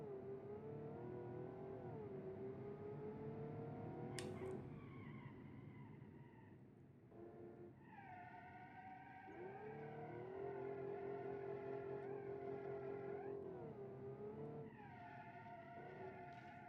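A 7.4 liter twin turbo V12 in a driving game revs and accelerates through several gear changes, its steady rising drone dipping at each shift, loud and continuous with no talk.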